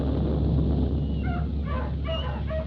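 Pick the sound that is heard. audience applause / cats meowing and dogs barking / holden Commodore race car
cats meowing and dogs barking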